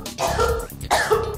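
A close, loud cough followed by a short rasping throat clear, two quick bursts from a smoker.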